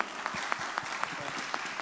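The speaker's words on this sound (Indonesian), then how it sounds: "tepuk tangan bareng-bareng buat kalian di sini" Applause from an audience at a university personal branding session, moderate and fairly steady with scattered sharper claps, a little thin and somewhat distant.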